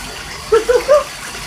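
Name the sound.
bathtub filling with water for pet goose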